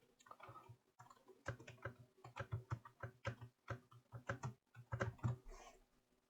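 Name being typed on a computer keyboard: a quick string of crisp key clicks arrives in uneven bursts with short pauses, close and fairly loud, with no speech.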